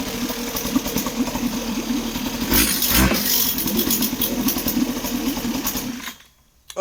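A Hangkai 3.6 hp outboard motor runs warm after starting, a steady buzzing small-engine drone with rhythmic pulsing, a louder revving surge midway, then cutting out abruptly near the end.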